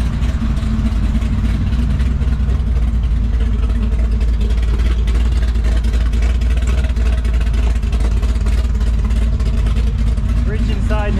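A 1969 Camaro restomod's engine idles, a loud, steady, low rumbling drone that holds throughout, with someone speaking over it.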